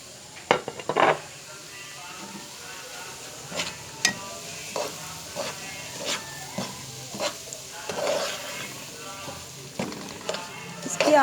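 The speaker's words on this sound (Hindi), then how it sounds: "तब तक सूजी को भूनना है जब तक इसकी खुशबू ना फैलने लग जाए।" Semolina roasts in oil in a pan with cardamom over medium heat, giving a soft continuous sizzle broken by repeated scraping clinks of a spoon against the pan as it is stirred, close and fairly loud.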